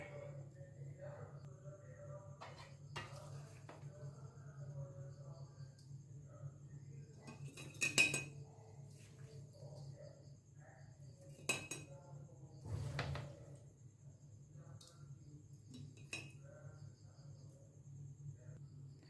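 Food being scooped with a metal spoon into large, clean, dry glass jars: sparse clinks and scrapes of utensil against glass stand out over a steady low hum, with quiet talk in between.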